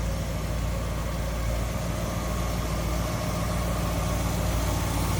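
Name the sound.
1956 DeSoto Firedome engine idling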